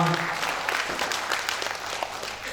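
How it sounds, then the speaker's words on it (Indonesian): Applause from an audience at a technical meeting for an East Java pop singer competition, a steady wash of clapping filling the room, with a voice faintly over it. "tepuk tangan dulu untuk kita semua"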